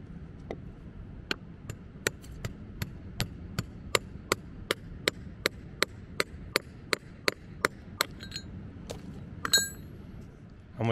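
A hammer taps a fossil nodule about twenty times in a steady, quick rhythm, each hit a sharp, close click, and a brief crack comes near the end as the stone splits.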